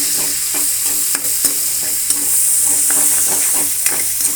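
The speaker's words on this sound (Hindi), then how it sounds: "अब डालेंगे इसमें ये प्याज जो मैंने बारीक चॉपर करके रखी हूँ ना, वो प्याज डाल देंगे।" Finely chopped onions sizzling in hot oil with mustard seeds and curry leaves for a bhindi salan: a steady, loud, close frying hiss with light stirring scrapes throughout.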